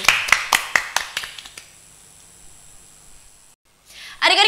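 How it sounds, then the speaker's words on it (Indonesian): Children at a Sunday school service clap together in about eight quick rhythmic claps, fading out, followed by quiet room tone and then a burst of voices. "Tepuk tangan adik-adik."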